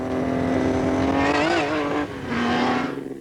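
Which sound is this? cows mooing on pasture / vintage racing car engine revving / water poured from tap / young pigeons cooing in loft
vintage racing car engine revving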